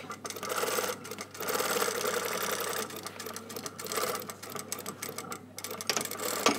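A sewing machine runs steadily, stitching the pocket bag of a blazer's welt pocket with a 6 mm seam allowance and a back tack, its needle chatter continuous and close with brief slowdowns.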